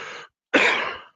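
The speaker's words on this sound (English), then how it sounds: "forever fighting this cough" Two coughs with a short gap between them: a brief one, then a louder, longer harsh cough that trails off. Close and alone, with no talking.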